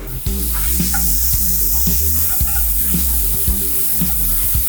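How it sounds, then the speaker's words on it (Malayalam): Onions sizzle in oil for a dried-chilli beef dish, a loud continuous crackling fry up close, with occasional clinks and stirring scrapes throughout. "എല്ലാം നല്ല എണ്ണയ്ക്കകത്ത് ഇങ്ങനെ മൂപ്പിച്ച് എടുത്തുകൊണ്ടിരിക്കുക"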